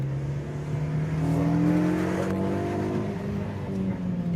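A Ford Focus RS and a Renaultsport Megane 250 accelerate hard up a deserted Spanish mountain road, engine notes climbing through the revs in a loud, close drone with a brief gearshift dip, no voices.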